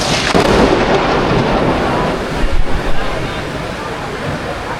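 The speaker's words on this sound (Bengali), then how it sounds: "এখানে প্রচণ্ড জোরে ঝড় বৃষ্টি শুরু হয়ে গেছে ভাই" A heavy thunderstorm at a railway station: loud, dense rain roars continuously with a rumbling thunder swell, the wash close and filling the whole stretch.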